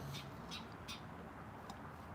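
Crows caw outdoors on a cold, sunny day, several harsh squawks in quick succession at a moderate distance, then one more call after a pause, over faint background noise.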